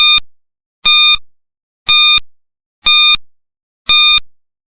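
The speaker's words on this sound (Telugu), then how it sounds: "టైమర్‌ని ఆన్ చేస్తున్నా" Quiz countdown timer sounds five identical bright electronic beeps, evenly spaced about a second apart, each short, loud and clean against silence.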